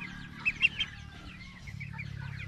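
A chicken gives a few quiet, short clucks over low background rumble; it sounds faint and somewhat distant, and no one speaks.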